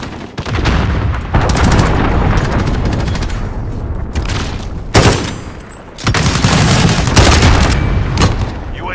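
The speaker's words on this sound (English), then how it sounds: "Enemy cruise missile incoming." Dense, loud Modern Warfare battle din: sustained automatic gunfire and heavy booms from a cruise missile strike, with sharp blasts near five and six seconds cutting through continuous firing.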